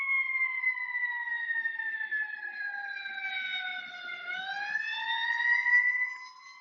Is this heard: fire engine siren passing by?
yes